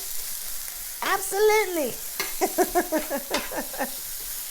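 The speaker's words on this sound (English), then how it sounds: "getting these onions nice and caramelized" Onions caramelizing on a hot surface for a Philly cheesesteak give off a steady low sizzle, while a person talks over it in short bursts.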